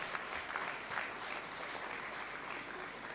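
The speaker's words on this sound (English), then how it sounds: "A round of applause for the NIS." Faint audience applause at a Taxpayers' Day award ceremony at State House, Nairobi, steady clapping from a crowd heard at a distance, low in level throughout.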